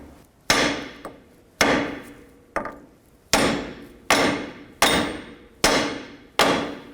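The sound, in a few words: hammer smacking steering knuckle to release ball joint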